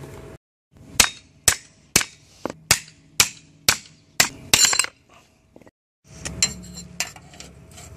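Sharp metallic hammer blows bend a metal repair patch for a vehicle frame, about a dozen evenly spaced ringing strikes close by, a quick cluster near the end, then a pause and softer clanks.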